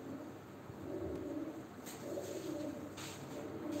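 Pigeons coo softly in low repeated murmurs at a live pigeon auction, faint and continuous with occasional rustling and no talk.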